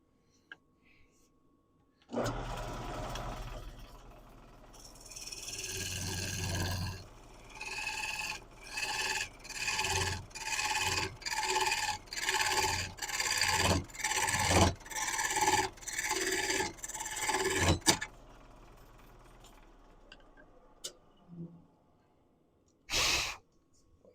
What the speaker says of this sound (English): I think I can probably finish that off with the spindle gouge.